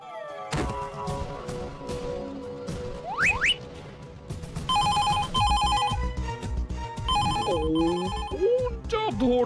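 A telephone rings repeatedly and goes unanswered in a cartoon, its bursts loud and close and separated by gaps, with crashes, whooshes and other cartoon effects between the rings.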